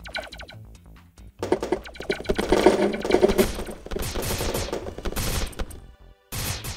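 Gunfire in the FpsCube first-person shooter game, rapid repeated shots in dense bursts with brief gaps, fairly close and loud, no talking.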